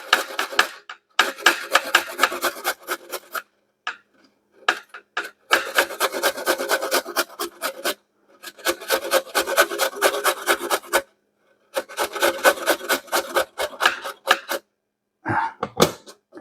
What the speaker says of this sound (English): I'm going to grate some of this in